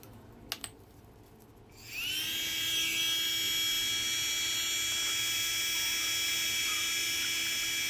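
A tiny handheld blower starts up after a couple of faint clicks, then holds a steady, high, whining hum close by, running alone without pause.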